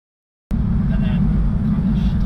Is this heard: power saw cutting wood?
no